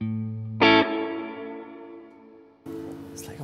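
With a Walrus Audio pedal on high modulation, a ringing electric guitar chord is struck and left to decay, its pitch sagging about a semitone. A second strum follows near the end, and nobody speaks.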